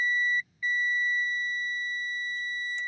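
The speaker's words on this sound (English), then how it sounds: "I'm going to get a beep and also a ohms reading" A multimeter's continuity test beep rings as a steady electronic tone, continuous, briefly cutting out once before resuming, clear and close with a quiet background.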